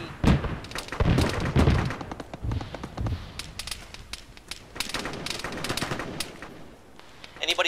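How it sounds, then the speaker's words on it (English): Heavy gunfire rattles through a military video game, with bursts of machine-gun fire and scattered shots at moderate distance, along with thumps and occasional voices. "Stay down, we're taking some kind of heavy fire from our east."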